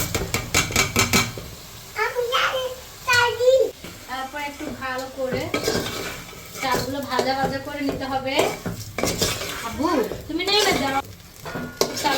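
Rice fries in a pot for biryani with a soft sizzle and occasional stirring clinks, mostly under a voice talking throughout.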